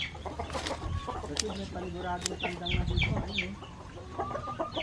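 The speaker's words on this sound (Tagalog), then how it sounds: "Kasi may paniguradong tandang na dito" A rooster on a Philippine farm clucks and calls repeatedly in short bursts, close and fairly loud, mixed with other fowl sounds and outdoor background noise.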